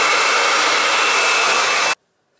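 A hair dryer blowing with a loud, steady whooshing hum at close range, then switching off abruptly into silence.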